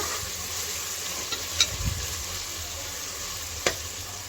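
Mint leaves frying in a pan for white pulao, a steady hiss of sizzling with a couple of brief clicks from the spoon and a soft low thump.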